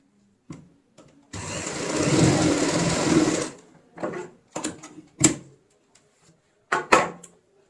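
A sewing machine stitches the corners of a homemade ladies' purse of lining and main fabric, a steady two-second run followed by several short, close bursts and clicks, with no talking.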